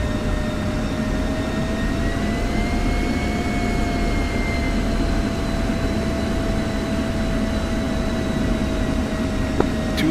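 F-16 and F-18 jets taxi in DCS World with a loud, steady jet engine whine and low rumble, with a faint rising tone partway through and a brief click near the end.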